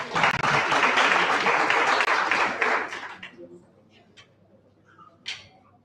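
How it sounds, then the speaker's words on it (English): A crowd claps together at a disability-inclusion voting event, a dense, loud round of applause for about three seconds that tapers off into a few scattered claps and quiet room noise. "A round of applause for us."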